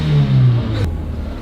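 A car engine revs with a low, loud drone, then a turbo blow-off valve vents in a sharp, hissing burst of air, after which the idle settles.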